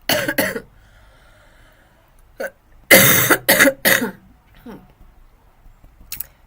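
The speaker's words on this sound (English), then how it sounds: "Still coughing, my friend." A person coughing several times in harsh, raspy bursts, a pair early, then a loud cluster of three or four, with softer throat sounds and breaths in the quiet gaps.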